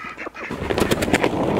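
Chickens on a homestead squawk loudly close by, a burst of harsh repeated calls with flapping, rising after a quieter start.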